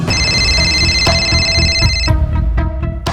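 A telephone rings loudly in a Hindi crime drama: a sustained bright electronic ring for about two seconds, then shorter repeated chiming pulses, with no one speaking.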